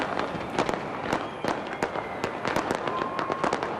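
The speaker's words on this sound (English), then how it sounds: "What you're looking at is the fireworks lighting up the skies in Auckland, New Zealand, next to the Sky Tower." New Year fireworks bursting over Auckland, New Zealand, near the Sky Tower: a steady barrage of sharp cracks and pops, many overlapping in quick irregular succession, loud and continuous with no voices.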